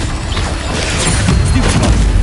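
Incendio fire spell cast in Hogwarts Legacy, a loud roaring whoosh with rumbling bursts building over a couple of seconds amid combat clatter.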